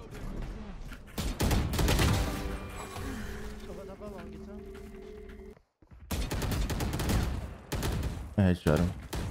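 Rapid bursts of gunfire in the tactical shooter game Valorant, loud and repeated with short pauses and a brief silence midway, with voices talking over the shots.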